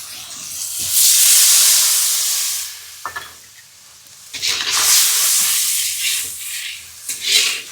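Water poured into a hot pan with mustard gives bursts of loud hissing sizzle that swell, fade and flare again, with a few clinks between.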